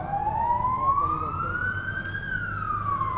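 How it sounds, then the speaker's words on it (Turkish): An ambulance siren wails in rising and falling sweeps, loud and close, in the earthquake-stricken Pazarcık district of Kahramanmaraş as ambulances are dispatched, with traffic rumble beneath and no talk. "Ve ambulanslar sevk ediliyor."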